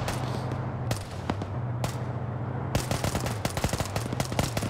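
Machine gun fire rattles in a large multiplayer PvP military shooter match, with bursts of rapid automatic shots over steady engine rumble, some near and sharp, others more distant, including a long dense burst toward the end.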